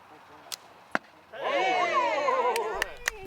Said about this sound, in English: Or give archery a shot.